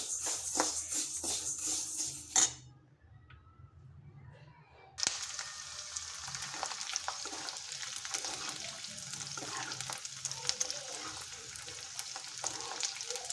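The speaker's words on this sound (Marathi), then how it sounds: "लगेच मी डिंक तळून घेत आहे" Edible gum (dink) frying in a pan while making jaggery, date and coconut laddoos, a steady hiss and crackle that pauses briefly near the start, then resumes and continues close and loud to the end.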